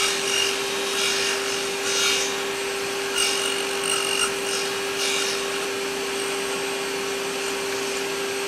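A power saw running while cutting a wooden board for a homemade table hockey game: a steady, loud machine drone with a few rougher bursts of cutting noise, and no talk.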